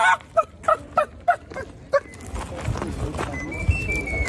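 A man imitates a chicken with a run of sharp, evenly spaced clucks, close and loud, followed by noisy background rustle and faint whistling tones.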